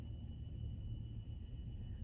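Low, steady mechanical rumble of an exhaust fan with worn-out bearings, a faint constant whine above it, a rough droning tone with no talking.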